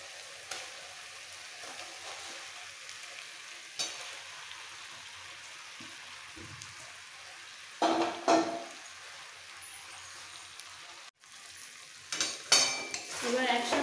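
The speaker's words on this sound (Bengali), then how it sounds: "এবার একসাথে কষাবো। যাতে সমস্ত মশলার টেস্ট আলুর মধ্যে এসে যায়।" Boiled potato and egg stir-fried with spices in a pan give a faint, steady sizzle, broken by a few bursts of spatula scraping and clattering against the metal.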